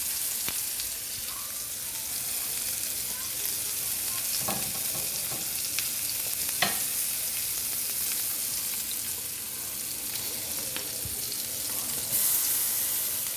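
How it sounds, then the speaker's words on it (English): Vegan gluten-free burger patties sizzle and fry in screaming hot oil in a pan, a steady close crackling hiss with occasional sharper pops running throughout, with no talking. "They're frying like a champ."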